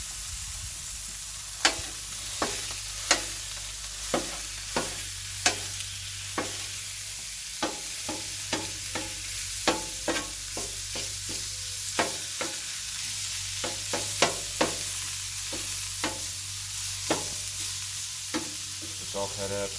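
Ground sirloin sizzles steadily on a 22-inch Blackstone griddle, a constant frying hiss broken by repeated sharp scrapes and taps of a spatula chopping and spreading the meat, close and fairly loud with no talking.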